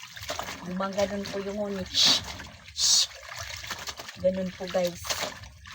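Water gushes and trickles from a hand water pump in steady splashing spurts, heard up close beneath someone talking throughout.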